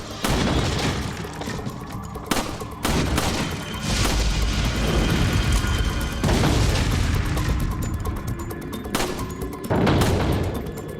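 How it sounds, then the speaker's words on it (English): A grenade goes off in the game Resident Evil 4 as a loud, close boom with shattering debris, among repeated bursts of gunfire and crashing impacts. "Grenade."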